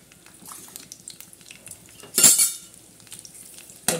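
Curry leaves, peanuts and cumin fry in oil for poha, a soft steady sizzle with light stirring scrapes, a louder burst of utensil clatter midway and another sharp clank at the end.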